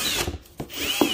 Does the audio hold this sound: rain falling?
no